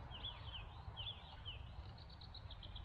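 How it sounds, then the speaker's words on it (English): Birds singing at dusk outdoors, thin, high chirping phrases repeating a few times and then a quick run of short tweets, faint and somewhat distant over a low rumbling background. "I hope birds are out singing."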